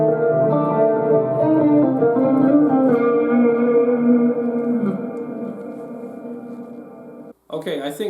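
A guitar passage plays through a QSC K12 speaker, with sustained, effects-laden tones and reverb that ring out and fade before a brief new strum at the end.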